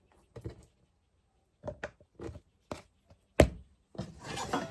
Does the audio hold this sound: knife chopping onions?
yes